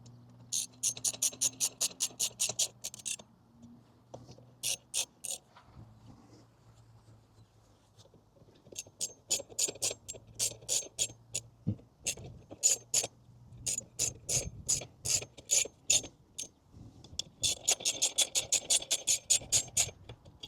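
A hand ratchet tightens bolts on a Rally Raid rear rack fitted to a Honda CRF300L Rally motorcycle: rapid clicking runs in repeated bursts, close and clear, with short pauses between strokes and no talking.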